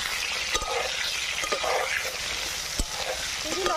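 Pointed gourd fries in mustard oil with salt in a pan, a close, continuous sizzle broken by several scraping stirs and clinks of the utensil.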